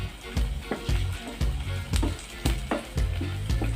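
Garlic and onion sizzle in a hot pan while a utensil scrapes and stirs in a steady rhythm, close and fairly loud, with frying crackle throughout.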